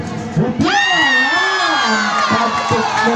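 At a local volleyball match in Gayo, Indonesia, a crowd of spectators, many of them children, bursts into loud shouting and cheering that rises sharply and holds for several seconds.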